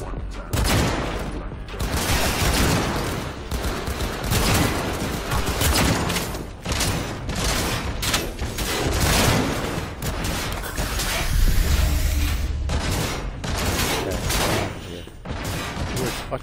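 Gunfire from a video game, dense bursts of shots and explosive booms running steadily across the whole stretch, loud and busy, with a voice talking over parts of it.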